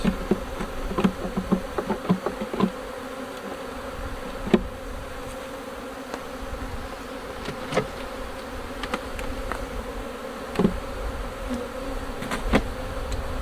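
A steady drone of many honey bees humming together around a hive, with occasional sharper buzzes of individual insects passing close and a few faint knocks.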